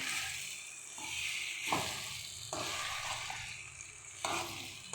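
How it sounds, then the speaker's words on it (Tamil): Boiled pasta stirred around a pan in a home kitchen, a steady scraping and soft wet churning with repeated strokes over a faint sizzle, close and alone. "இப்போ பாயில்டு பாஸ்தா போட்டுடலாம். நல்லா கலந்து விட்டுடலாம்."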